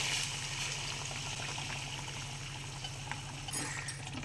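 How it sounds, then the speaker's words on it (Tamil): Water pours and bubbles into a simmering green peas and potato curry, a steady gurgling hiss with a low hum underneath and a brief splashy surge near the end. "இப்போ தண்ணி ஊற்றிக்கிறேன்."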